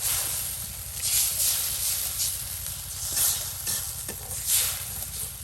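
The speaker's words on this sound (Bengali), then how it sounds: "এই যে আপনার মশলা কষানো হয়ে গেছে" Spices fry and get stirred in a pan for a village Bengali fish and chicken dish, giving a continuous sizzling hiss with rhythmic scraping swells as the spoon moves, close up and with no talk.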